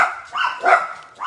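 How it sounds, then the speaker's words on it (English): Dogs bark in short repeated bursts, a few yaps spaced across the moment, fairly close and moderately loud, with no one talking over them. "Excuse my dogs, it wouldn't be alive without my dogs saying hello."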